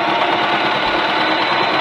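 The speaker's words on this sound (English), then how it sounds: "now it's time to get this into the sewing machine and start sewing" A sewing machine runs continuously as it stitches along the edge of a homemade blazer, a steady close mechanical whir with no pauses or speech.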